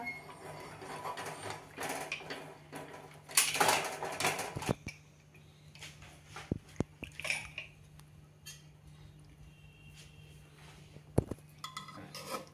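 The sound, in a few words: removing the lid of a pressure cooker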